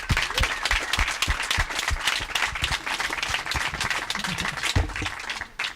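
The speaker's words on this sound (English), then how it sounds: "Maybe we can take a quick round of applause for everyone." Party guests at a fundraiser applaud, a dense round of clapping filling the room at steady volume for several seconds before tapering off, with a few scattered voices under it.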